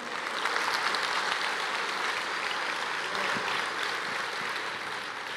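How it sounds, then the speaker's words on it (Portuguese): A church congregation applauds during a sermon, a steady wash of many hands clapping at moderate distance, sustained evenly without pause. "Você pode aplaudir o Senhor"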